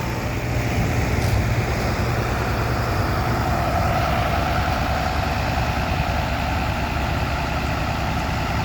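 Three buses sit idling together, their heavy diesel engines producing a loud, continuous low rumble with steady mechanical chatter and no break or speech.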